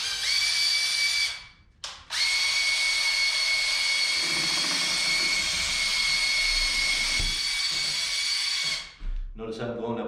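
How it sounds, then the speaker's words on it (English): A power drill running on slow speed spins a paint stirrer to mix primer, a steady loud whine that briefly cuts out near the start and stops near the end. "Put the drill on slow speed."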